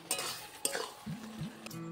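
A spice masala with mashed cabbage and tomato is stirred in a wok, a few quick scraping strokes over a soft background sizzle, close and without speech.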